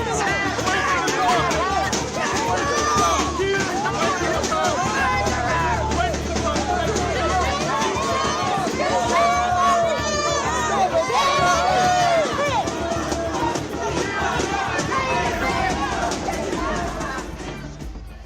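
An agitated crowd at a politician's speech produces dense, continuous babble and overlapping shouts, loud and close throughout, fading slightly toward the end.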